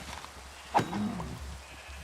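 A single short sheep bleat from a video game, likely Minecraft hardcore mode, sounds once against a steady low background hum, with no one talking.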